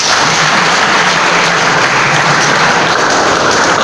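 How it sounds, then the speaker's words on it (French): Loud, dense applause fills a thanksgiving church service in Kinshasa, with many hands clapping at once in a continuous roar and no talk over it. "Ça mérite aussi des acclamations."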